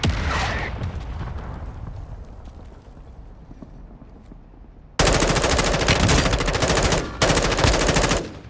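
Gunfire in the video game Call of Duty: Modern Warfare II: a sharp shot rings out and fades into echo, then rapid loud automatic bursts rattle from about the midpoint, with one short gap before ending.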